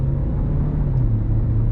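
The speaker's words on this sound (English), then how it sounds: "So we'll get an acceleration run here." 2021 Audi A4 with a 2-liter engine accelerating, a steady, loud low rumble from inside the cabin, with the engine tone holding and then dipping slightly.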